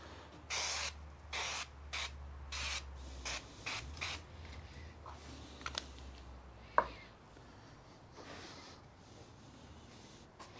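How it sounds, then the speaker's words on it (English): Several short bursts of duck fat spraying onto grill grates, hissing in quick succession, followed by a sharp clack and then quiet background. "I'm going to spray the grates with it."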